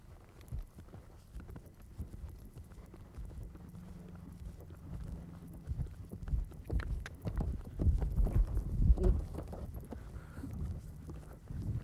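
Muffled hoofbeats of a horse cantering toward a cross-country jump such as an open ditch, growing louder and closer with a rough, uneven rhythm under wind noise outdoors.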